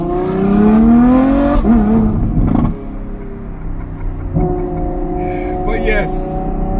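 A straight-piped Ferrari F12 V12 revs loudly up close, its rising and falling engine tones filling the first seconds before settling into a steady throbbing idle with a brief higher burble near the end; people talk over it.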